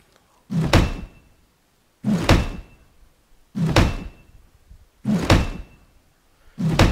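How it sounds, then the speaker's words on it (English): A hammer builds a wooden door in the Rust video game, landing five heavy, evenly spaced thuds, each loud and close with a short ringing tail and silence between. "Now we just use our hammer once you hear that little ratchet sound."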